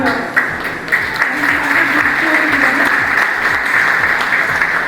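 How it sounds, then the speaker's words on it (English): An audience at a school award ceremony breaks into loud, steady applause, with a faint rhythmic background pattern beneath the clapping throughout. "a huge round of applause for the teachers"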